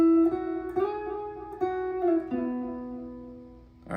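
A guitar plays the melody of a song as a short, quiet run of single sustained notes joined by slides, with a sharper note plucked at the end.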